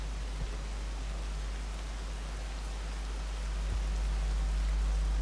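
Steady rain in the video game Rain World, a constant hiss of falling water that swells slightly toward the end, with a deep low rumble underneath and no voices.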